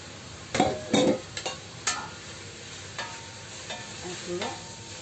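Cut chicken pieces, bones included, fry and get stirred in a pan, with sharp scraping clatters in the first two seconds and a low sizzle throughout. Softer stirring knocks follow, with no talking.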